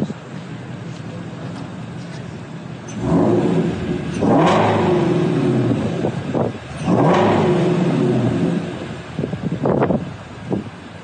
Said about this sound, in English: Rev it up a little bit for us.